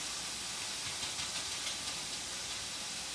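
Pork sizzles in a pan for chow mein, a soft, even hiss that holds steady throughout without stirring or speech.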